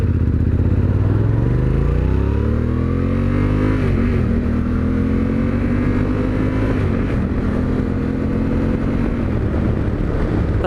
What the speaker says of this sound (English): this bike does have a Krapovica pipe on it. It does not have stock exhaust, so it does sound a little bit more rumbly